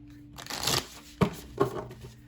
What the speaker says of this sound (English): Let me see if I need to shuffle.